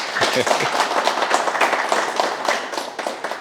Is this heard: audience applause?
yes